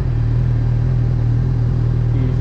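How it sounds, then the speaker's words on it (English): A Honda CB1000R motorcycle engine rumbling in a tunnel, a loud, steady low drone with a dense, echoing character and no distinct rev peaks. "I'll be in the tunnel and I'll be able to rev bomb the tunnels"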